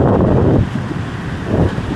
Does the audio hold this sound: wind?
yes